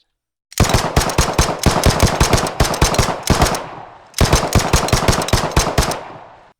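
Full-automatic gunfire from the Police 10-13 video game comes in two long, sharp bursts of rapid shots. The bursts are loud and close, separated by a brief pause.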